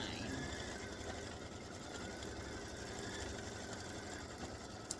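Quilting machine stitching an edge-to-edge peace sign pattern, a quiet steady rapid needle chatter with a low motor hum running continuously.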